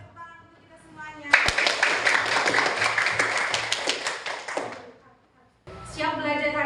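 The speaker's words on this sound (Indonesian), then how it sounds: "Oke, tepuk tangan untuk kita semuanya." Schoolchildren in an Indonesian elementary classroom clap their hands together in a quick, lively patter for about three seconds, with talking heard before and after.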